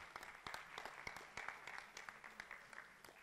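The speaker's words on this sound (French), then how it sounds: "On peut les applaudir." An audience applauds at an entrepreneurship conference, producing a short, fairly faint burst of dense clapping that sounds distant and steady.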